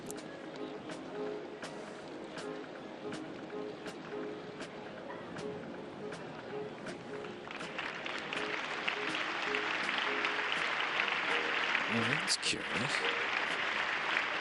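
A large outdoor crowd at a D-Day commemoration ceremony in Normandy applauds Belgium's King Philippe, sustained applause swelling louder midway, with a commentator's voice speaking over it.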